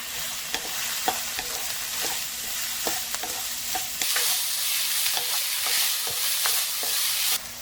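Minced garlic and chopped onion fry in oil in a hot pan on medium heat, with a close, steady sizzle and light stirring taps; the hiss grows louder and brighter midway.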